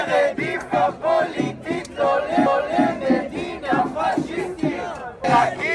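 A large crowd of protesters fills a Tel Aviv street with loud rhythmic chanting, many voices shouting slogans together in repeated pulsing phrases.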